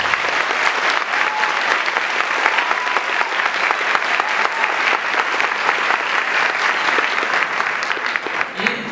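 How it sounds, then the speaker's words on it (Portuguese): An audience at an education forum in Paraná gives guest speakers sustained, loud applause for about nine seconds, an even wash of many hands clapping with a faint voice underneath. "gostaria de pedir já uma salva de palmas para os nossos convidados"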